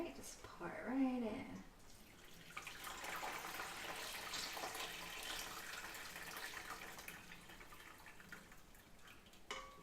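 Lobster broth poured steadily into a pot, a continuous liquid splash and trickle lasting several seconds, fairly faint, after a brief spoken voice at the start.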